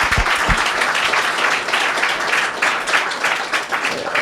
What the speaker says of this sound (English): How about a round of applause for Mr. Andy Potts?